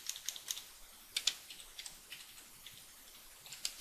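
Keys tapped on a computer keyboard while entering a shortcut in Microsoft Word, a few faint scattered clicks in small irregular bursts against a quiet background, no talking.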